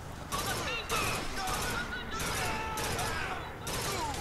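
Gunfire in the video game BioShock Infinite crackles through a busy, sustained mix, with bursts of shots and clatter filling the whole stretch.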